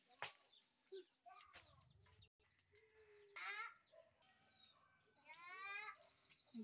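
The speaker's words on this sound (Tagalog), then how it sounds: "May mga chicken din dun banda guys." Chickens around an old family house cluck intermittently in short bursts, mixed with other animal calls and scattered background sounds, with no voices.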